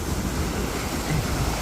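Water rushing and splashing on the Calico River Rapids ride at Knott's Berry Farm, a loud continuous roar of churning water mixed with wind buffeting the microphone.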